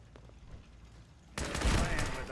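A level 4 Mark 4 turret in Fallout 4 opens up suddenly with a loud, dense burst of rapid automatic fire after a quiet stretch, the volley continuing steadily to the end.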